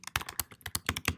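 Quick, uneven run of computer keyboard keystrokes as a short caption is typed, close and crisp with no talking.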